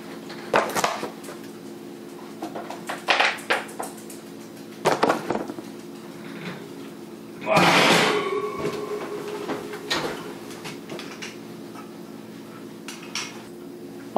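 A roasting pan holding a cooked prime rib is set down on a kitchen counter, giving several scattered metallic clatters and knocks, one longer scraping clank midway, with quiet pauses between and no talk.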